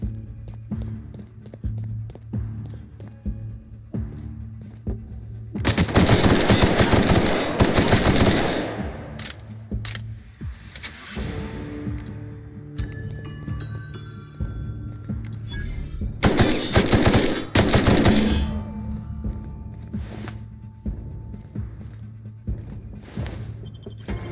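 Rapid automatic gunfire bursts in The Outer Worlds, two loud extended volleys of dense rattling shots separated by quieter stretches of scattered single shots, footsteps and a low steady ambient hum.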